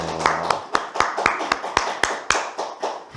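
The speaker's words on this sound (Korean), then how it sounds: "우리 박수 한번 할까요?" A group clapping hands in unison, about a dozen sharp, evenly spaced claps at a brisk steady beat, fairly close, with a short tone at the start.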